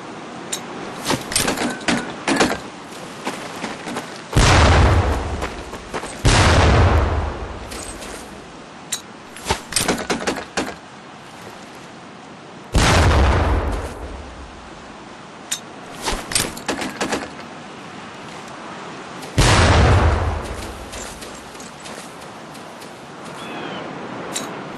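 Grenade blasts on a training range in Medal of Honor: Pacific Assault, four loud booming explosions spaced several seconds apart, each with a rumbling tail, over faint background clatter.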